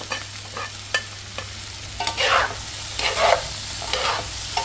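Chicken hits a hot pan and sizzles steadily while being stirred, with short scraping clatters of the utensil against the pan, close and fairly quiet.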